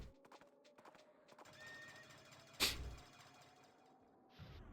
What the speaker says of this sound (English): He rides on a horse and comes in.